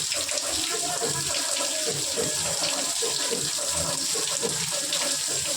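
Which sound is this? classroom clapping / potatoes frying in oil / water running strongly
water running strongly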